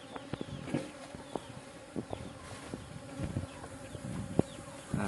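Bees swarm and buzz over sweet palm sugar being made in Indonesia, a steady, dense insect drone with sharp clicks and knocks cutting through it.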